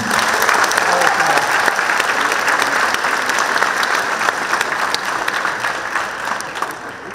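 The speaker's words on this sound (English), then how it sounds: "Can we give a round of applause for them?" An audience at a high school Black History Month presentation applauds the Black Student Union, a loud, continuous wash of clapping with crowd noise that tapers slightly toward the end.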